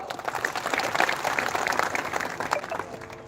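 A crowd at a statewide Dhangar community rally in Mhaswad breaks into brief, dense applause, a loud sustained patter of many hands from the gathering with faint voices mixed in.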